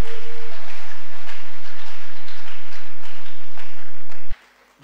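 A church congregation cheering and acclaiming loudly, a dense sustained roar of many voices and claps in a large space, cutting off abruptly near the end.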